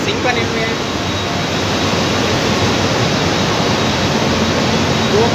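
Water from a cooling tower cascades into the sink basin below, a steady, dense and loud rushing roar with no pauses, heard close and alone throughout.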